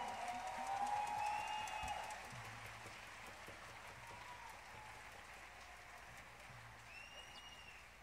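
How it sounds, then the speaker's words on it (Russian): Audience applause at an intimate retro apartment concert in Almaty after a piano solo, soft and fairly distant, loudest at first and then thinning into scattered claps. "Ваши аплодисменты"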